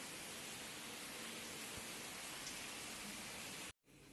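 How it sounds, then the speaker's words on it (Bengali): Steady rain falls in cloudy weather, a dense, even hiss that fills the scene for several seconds, then cuts out sharply just before the end and returns more faintly. "এখানে তো বৃষ্টি বৃষ্টি পড়ছে, একদম মেঘলা ওয়েদার।"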